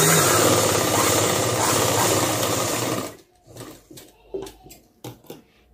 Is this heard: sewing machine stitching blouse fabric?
yes